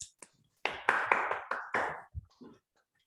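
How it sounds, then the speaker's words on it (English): Online attendees unmuted on a video call clap to thank a speaker at a mathematics workshop, giving a handful of sharp, separate claps and taps that come unevenly at first and then trail off into a few faint, scattered ones. "let's thank Lisa again, and by clapping, so you're free to unmute yourself and clap"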